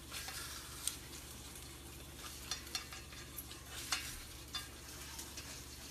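Eggs fry in a messy pan alongside a breakfast stir fry, a faint steady sizzle broken by a few light utensil clicks and scrapes, with no talking.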